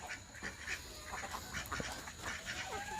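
Several ducks quack repeatedly nearby on a poultry farm, overlapping calls over a low outdoor background.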